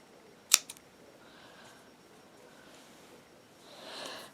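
Scissors snip off yarn ends in a crochet project, a single sharp close cut followed by a smaller click, then quiet rustling of handling.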